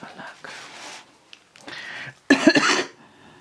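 A series of harsh coughs, a few separate bursts with short pauses, the last one loudest and closest.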